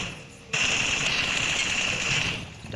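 Automatic gunfire in the mobile battle royale game BGMI, a sudden loud sustained burst that starts abruptly after a brief quiet moment and rattles on steadily for about two seconds before easing off.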